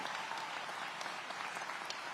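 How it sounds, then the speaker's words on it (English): Audience applause for public safety personnel at a city public safety address in Aurora, a steady wash of distant crowd clapping heard from across a large room. "I'm going to ask you to give one more round of applause for our dedicated public safety personnel in the house tonight."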